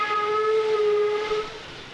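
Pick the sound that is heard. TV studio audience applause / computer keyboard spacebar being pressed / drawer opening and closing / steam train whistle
steam train whistle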